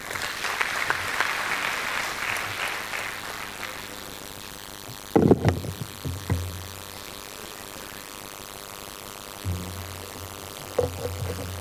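Applause from an audience at a meeting of Senegal's mayors' association greets its president, fairly loud clapping that fades out after about four seconds, followed by microphone handling thumps and a low hum.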